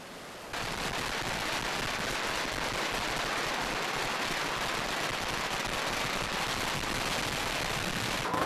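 Firecrackers crackle and pop in a dense, continuous barrage of rapid bursts, loud and close, after a quieter first half second.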